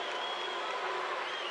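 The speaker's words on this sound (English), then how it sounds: "You hear the crowd." A crowd at the 1997 Class A high school basketball semifinal between Grand Rapids Ottawa Hills and Wayne Memorial cheers and applauds in a brief, steady roar.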